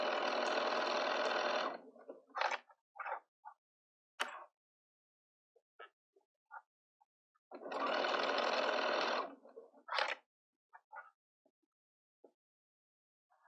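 Sewing machine stitching the quilted binding of a fabric market bag, two sustained runs of rapid mechanical whirring separated by short clicks and handling noises, close and alone.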